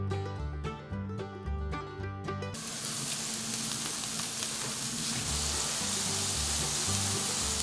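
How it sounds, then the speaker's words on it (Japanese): Soft background music plays, then a loud, steady sizzle of food steam-frying over low heat in a covered pan rises and continues under the music. "弱火にして蓋をして3分蒸し焼きします"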